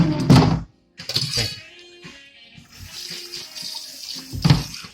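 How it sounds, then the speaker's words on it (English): Running tap water splashes as a cutting board is rinsed in a kitchen sink, bursts of close water flow separated by brief pauses. "Quick rinse of your board."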